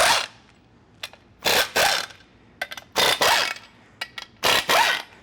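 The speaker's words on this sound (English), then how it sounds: "So what I like to do is just loosen all my bolts here." Wheel bearing bolts on a 2021 Ford F150 loosened with a power tool, heard as several short loud bursts of mechanical whirring and rattling separated by quiet pauses, close by.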